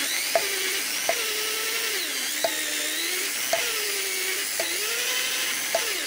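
Engine valves on a YaMZ-238 cylinder head are lapped with a homemade paste of abrasive and oil, giving a steady rasping grind with a pitched tone that restarts about every second as the valve is pressed and turned.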